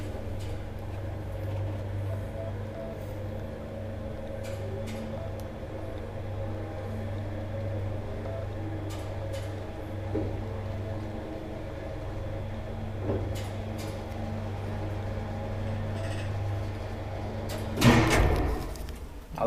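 An old Kone traction elevator in Meteorinkatu 8A, Olari, Espoo hums steadily as the car runs, with faint clicks along the way, then its doors slide with a brief, louder rush near the end.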